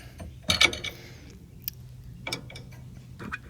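Doubled-up hand wrenches work a bolt loose on a 2007 Toyota front suspension during a ball joint and strut job, giving a few sharp metallic clicks and scrapes close by, with quiet pauses between them.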